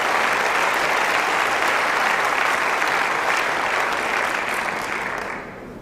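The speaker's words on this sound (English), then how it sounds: "So the applause there" A crowd at a lawn bowls match breaks into steady, dense applause for a good shot, sustained as one broad wash of clapping before fading out near the end.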